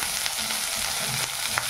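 Curry leaves and popping mustard seeds sizzle in hot oil for an idli tempering, a steady close frying hiss with a few sharper crackles and no voices.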